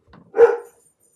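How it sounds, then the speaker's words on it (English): A female dog kept at home barks once, a single close, sharp bark in an otherwise quiet indoor room. "I have my daughter's dog when I'm recording, and she's a barker."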